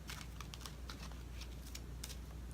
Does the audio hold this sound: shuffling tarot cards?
yes